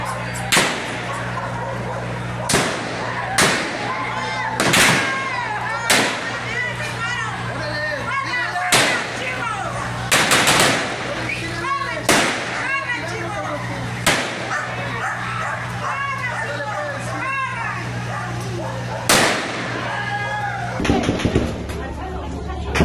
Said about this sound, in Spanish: policías estatales y la Guardia Nacional hicieron disparos al aire para dispersar una turba de comerciantes